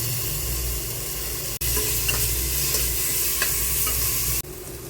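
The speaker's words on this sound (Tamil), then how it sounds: "சின்ன வெங்காயம் கொஞ்சம், பூண்டு கொஞ்சம் போட்டுக்கலாம். வதக்கி விட்டுக்கலாம்." Shallots, garlic and ginger paste sauté in a pan with a loud, dense, close sizzle and occasional stirring scrapes. The level jumps up partway through, then drops back near the end.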